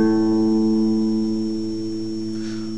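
A single open fifth (A) string on a guitar is plucked and left to ring, a clear sustained tone slowly fading away on its own.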